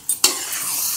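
Carrot halwa stirred and roasted in a pan, a couple of sharp scrapes of the spoon followed by a steady close sizzle.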